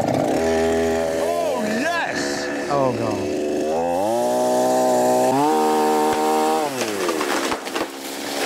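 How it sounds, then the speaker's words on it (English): A chainsaw revs loud and close in an outdoor bridge-building scene, its engine note rising and falling in long sustained pulls while excited voices shout over it. "Has he got a chainsaw?"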